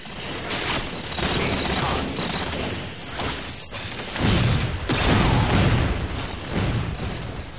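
Shotgun-like weapon in Halo 4 Capture the Flag firing, heavy booming blasts with rattling bursts and mechanical clatter, loud and close, with a voice talking underneath.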